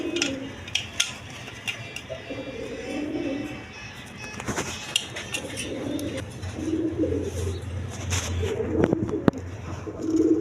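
Red Maltese pigeons cooing in soft, repeated low bursts, moderately close, over a busy background of clinks and faint rustling, with occasional distant voices.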